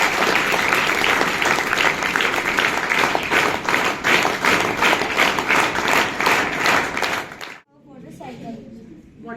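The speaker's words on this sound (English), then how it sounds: "Yes, clap for them" Students at a school science-day project presentation clap loudly and steadily for several seconds, then the clapping stops abruptly, leaving a brief quiet with a faint voice.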